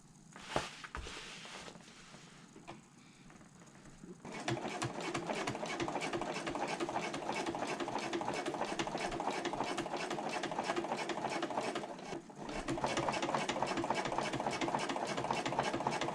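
Close sewing machine top-stitching along the edge of a bag pocket, starting with a few soft handling clicks, then a long steady run of rapid stitching that pauses briefly before resuming.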